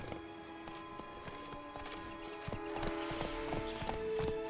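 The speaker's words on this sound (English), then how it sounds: "Come on, Roach." Horse hooves clip-clop in a steady rhythm in The Witcher 3: Wild Hunt, Blood and Wine, over soft game music and ambience, growing slightly louder toward the end.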